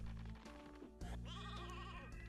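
A sheep in the video game Space Station Silicon Valley bleats with a wavering, nasal call, loud and close over steady game music and background tones, with no talking.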